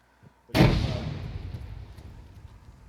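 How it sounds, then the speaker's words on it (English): A frag grenade goes off in ArmA 3, one sharp, heavy blast that booms and then rolls away in a long, fading rumble, with no other sounds around it. "Frag out. Frag out."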